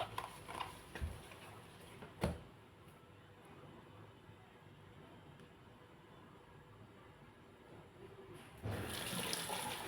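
A pot of water boils for a stir-fry of bamboo shoots with minced pork and glass noodles. It gives a faint, steady bubbling hiss with a few sharp knocks, then grows louder at the end.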